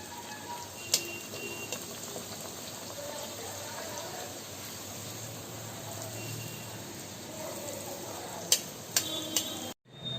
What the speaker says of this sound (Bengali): এখানে আমি লুচি একে একে ভেজে নিচ্ছি।